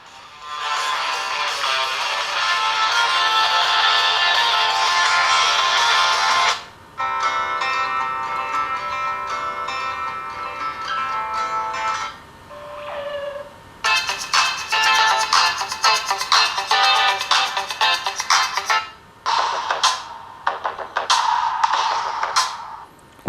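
Music plays from the small built-in loudspeaker of an Allview X4 Soul Lite dual-camera midrange smartphone, fairly thin and modest in volume, running in several continuous stretches separated by short gaps.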